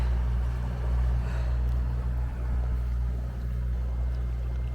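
A boat pulls away from a kelp-covered, barnacled rocky shore on the Sunshine Coast, its engine a steady low drone with strong low harmonics that holds at a constant moderate level with no talking.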